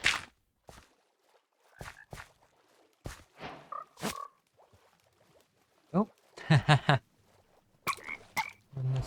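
Warm variant frogs in Minecraft, newly grown from tadpoles in a windswept savanna, give short scattered croaks alongside soft hopping steps, with a brief spoken exclamation.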